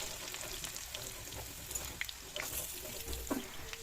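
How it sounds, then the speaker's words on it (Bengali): Potatoes frying in oil for Bengali chicken kosha, a steady broadband sizzle with scattered small pops and crackles, moderately quiet and continuous, no voices. "সেগুলোই প্রথমে আমি ভালো করে ভেজে নেব"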